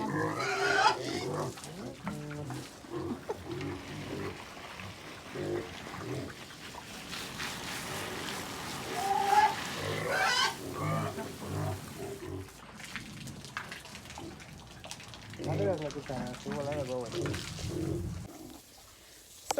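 Pigs grunt and squeal on and off in a pen on a farm in the Jamaican countryside, close by, with scattered splashing and shuffling noises between the calls.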